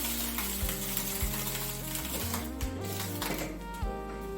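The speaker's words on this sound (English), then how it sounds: "you put the oil in the pot, and then you add the package of vegetables" A package of stir-fry vegetables sizzles and crackles in hot oil in a pot, a steady close frying hiss with irregular clicks and scrapes from stirring, and no talk.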